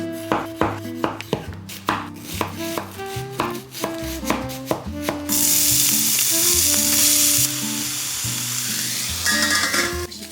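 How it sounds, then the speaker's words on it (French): Sliced peppers and onion frying in a pan, a steady sizzle that swells louder midway, with scattered clinks and scrapes of a utensil against the pan. "je coupe tout en lamelles, je fais revenir à la poêle le plus longtemps possible jusqu'à ce que les poivrons soient bien fondants"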